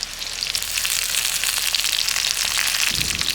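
Green chillies and curry leaves tossed into hot oil for a Telangana-style korameenu fish curry, crackling in a loud, steady, dense sizzle that carries on without a break.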